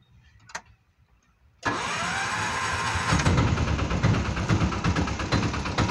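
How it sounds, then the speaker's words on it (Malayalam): Piaggio Ape auto rickshaw engine cranks and catches after a brief quiet pause and a click, then settles into a loud, steady, buzzing idle that runs on close by. "താക്കോൽ സ്റ്റാർട്ടാക്കുമ്പോൾ വണ്ടി ഒരു സൗണ്ട് വെക്കും"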